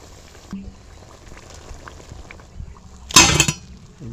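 Tomato potato chops deep-fry in oil, a low, steady bubbling that swells near the end into a loud, brief burst of crackling sizzle as the oil churns, with no voices.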